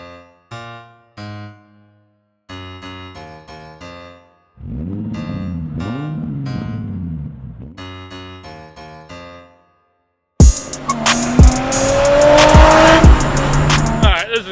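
A stretch of tonal, music-like bursts gives way to a drift car on fresh tires, loud and close, its engine revving hard while the tires squeal and skid for the last few seconds.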